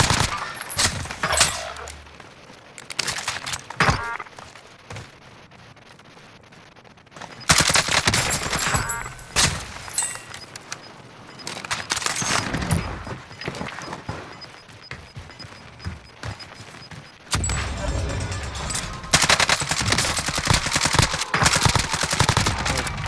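Bursts of automatic rifle fire and single shots in Call of Duty: Modern Warfare, loud rapid volleys broken by short pauses, dense and close throughout with no voices over it.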